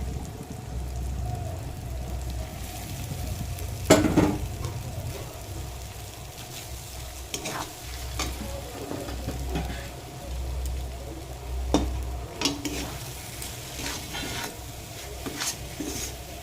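Grated eggs being stir-fried in oil with cooked spice masala in a pan, heard as soft sizzling under intermittent scraping and clinking of a spatula against the pan, with a few sharper knocks spaced irregularly.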